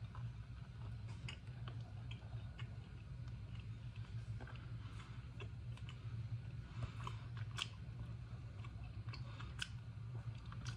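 Soft, close chewing of a bite of coquille de Noël, a French Christmas brioche rich in butter and cream, with faint moist clicks and smacks over a steady low hum, no talking.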